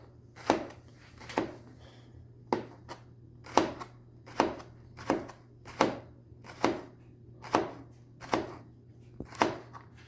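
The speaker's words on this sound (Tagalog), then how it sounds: "Manipis lang guys ang slice nito kasi hindi ko na siya pipigain." Bitter gourd (ampalaya) is thinly sliced with a knife, giving crisp, evenly spaced chops on a board, about eleven in a steady rhythm, close and clear.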